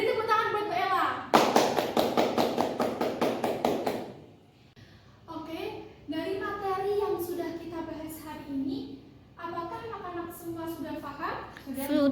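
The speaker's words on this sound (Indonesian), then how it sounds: "Oke, beri tepuk tangan buat Mbak Ella." Classroom applause for a student during a micro-teaching lesson: about three seconds of brisk, fairly loud group clapping, followed by teacher and students talking.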